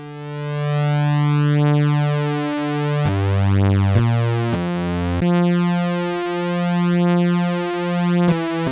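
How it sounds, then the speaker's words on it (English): Two detuned oscillators on a Korg DW-8000 synthesizer play a sustained tone that steps between pitches, with a slow beating wobble from the detuning. "2 oscillators at the same time, detuned."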